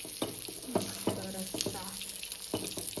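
Ground masala paste hitting a pan of frying fish curry in a Konkani kitchen, giving a steady sizzle broken by several sharp stirring scrapes and clinks.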